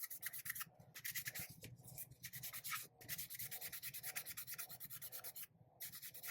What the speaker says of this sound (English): I'm just using a 3M fine sanding sponge